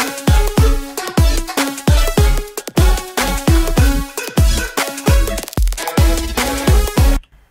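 A dry EDM synth lead rendered without any effects plays alone, loud and close, with a punchy rhythmic pattern of sharp repeated notes over deep percussive hits, ending abruptly near the close.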